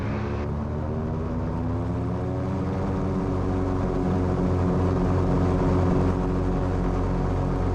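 A Cessna Skymaster push-pull twin-engine aircraft on its takeoff roll, rear engine leading: loud, steady, pulsing propeller drone heard from inside the cabin, building slightly in power across the clip, with no voices.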